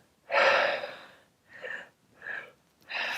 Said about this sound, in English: So when you're ready, just start breathing.